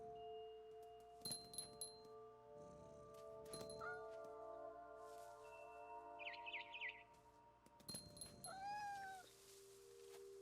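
A cat meows and caterwauls in the video game What Remains of Edith Finch, several quiet separate cries with chirping bird calls and soft ambient tones around them.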